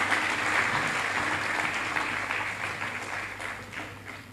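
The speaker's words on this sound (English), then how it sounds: "So I'd like all of you to give yourselves a resounding round of applause for being here today" A large forum audience gives a round of applause, a steady wash of many hands clapping that holds at even strength and slowly tapers toward the end, with a low hum underneath.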